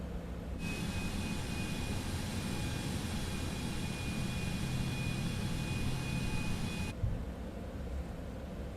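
A Citation X business jet rolling in Microsoft Flight Simulator: a steady, even engine roar with a thin high whine holds for several seconds, then drops back to a quieter hum; no voices.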